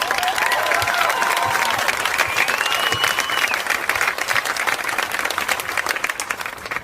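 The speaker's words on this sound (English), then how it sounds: "He introduced me and you clapped." Audience applause at a gathering, steady dense clapping from a sizable crowd that continues evenly throughout and fades slightly at the end, with a voice faintly audible beneath it.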